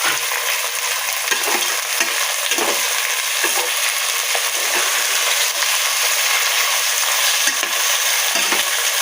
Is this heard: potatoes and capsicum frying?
yes